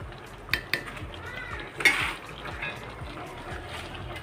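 A metal lid clinks and settles onto a pot of chicken cooking on the stove. There are a couple of sharp clanks and then a louder scrape and rattle, with low kitchen background noise and faint speech.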